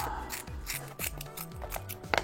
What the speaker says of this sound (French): Donc là, vous prenez juste une paire de ciseaux,